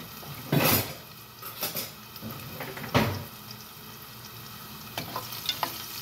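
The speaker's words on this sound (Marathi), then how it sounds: "छानपैकी आवाज येतोय बघा लसणीचा." Garlic frying in a pan until it turns red gives a soft, continuous sizzle, broken by several brisk stirring scrapes and clinks of a utensil against the pan.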